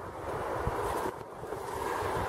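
Wind gusting across an open allotment, a soft, steady rushing with buffeting against the microphone, faint and continuous with a brief dip partway through.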